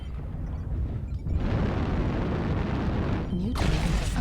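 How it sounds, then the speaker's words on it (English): Artillery strike explosions in MechWarrior Online boom with deep roars, one swelling blast followed by a sharp second burst near the end, over steady mech and battlefield rumble. "Artillery strike activated."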